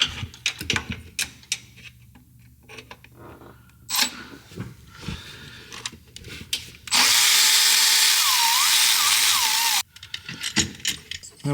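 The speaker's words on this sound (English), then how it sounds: "we're gonna break these free. Run these out so we know they're loose." Power tool, likely an impact driver, breaking loose and running out the bolts on the intake piping of a 2022 Ford 6.7 Pusher setup, with one loud continuous burst near the middle framed by scattered metallic clinks and handling noise.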